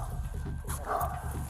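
A dog barks and yips in short bursts amid a tense outdoor confrontation, with voices talking nearby over steady background noise.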